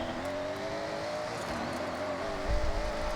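Funko Motorsports F9 race car with 1,750 horsepower in Forza Horizon, its engine droning in a steady high-revving tone with a slight surge near the end.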